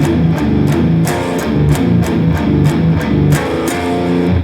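Heavily distorted electric guitar plays a riff, loud and close, with chugging palm-muted notes and sharp repeated pick attacks in a tight, driving rhythm, no voices.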